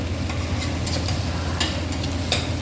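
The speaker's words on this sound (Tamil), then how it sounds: "இதுங்க தக்காளி ஓரளவுக்கு வதங்குது" Onions and tomato sautéing in a pan for pepper chicken gravy, a dense continuous sizzle with a few brief stirring scrapes, close and fairly loud.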